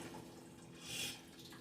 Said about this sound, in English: take some cold water, and go and wash your noodle off